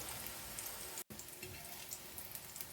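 Soft, steady sizzling and crackling of chicken liver frying in a pan, with a brief dropout partway through.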